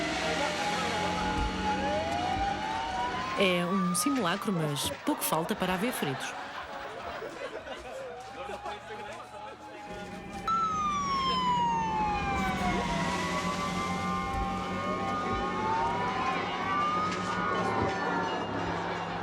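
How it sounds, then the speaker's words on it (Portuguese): Volunteer fire trucks from Melgaço arrive during a fire drill, sirens wailing in rising and falling sweeps near and loud with engine rumble, while a voice talks over them. "De repente, aparecem os bombeiros voluntários de Melgaço com os seus caminhões."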